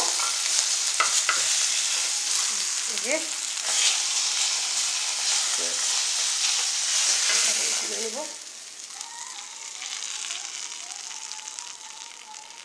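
Hilsa fish heads fry in hot oil with a loud, continuous crackling sizzle and occasional stirring clatter. The sizzle eases and becomes quieter toward the end, and a voice speaks briefly over it.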